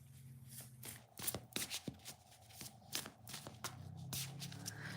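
Tarot cards from the Angel Wisdom deck being shuffled by hand, quiet riffling bursts and soft taps in an irregular rhythm, close up with faint background hum.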